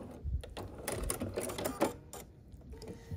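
A sewing machine stitches across a diagonal quilt block for a chain block, running in several short bursts with brief pauses, close and fairly quiet.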